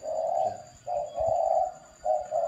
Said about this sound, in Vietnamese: rất nhiều cu gáy này